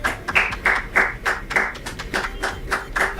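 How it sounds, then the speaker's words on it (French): An audience claps for a campus competition winner, with close, rhythmic handclaps in a steady beat of about three per second and no voices over them. "applaudissez pour elle."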